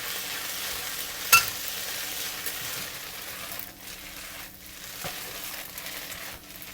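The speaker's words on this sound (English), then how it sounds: "Now mix them up well. Try to have every single strand of the kway teow or hor fun covered with this beautiful black sauce." Flat rice noodles (kway teow or hor fun) are stir-fried with dark soy sauce for Cantonese wat tan hor fun, a soft sizzle with quiet stirring and scraping, plus one sharp clink near the start.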